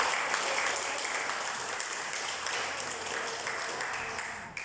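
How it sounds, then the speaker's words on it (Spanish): A church congregation applauding, broad continuous clapping from many hands at steady strength that tapers slightly at the very end. "Denle un aplauso a Dios"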